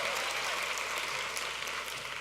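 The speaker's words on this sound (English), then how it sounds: "You could clap for that." Steady audience applause at a community gathering, an even, dense wash of clapping sustained at moderate distance with no pauses.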